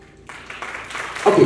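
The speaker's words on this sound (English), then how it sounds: "we can have a big round of applause for both of them" Audience applause for two speakers at a zonal-level debate competition in Kerala, starting sparse and quickly building into a dense, swelling wash of clapping over a second and a half.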